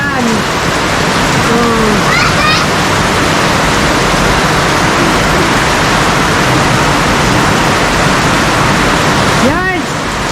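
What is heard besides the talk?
rain falling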